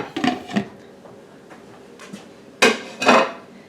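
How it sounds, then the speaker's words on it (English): A 4-pound pork tenderloin is set into a crock pot, with a few hard clunks and knocks of ceramic and metal, a quiet gap, then two louder clattering bangs close up near the end. "I'll go ahead and I'm going to put that in my crock pot."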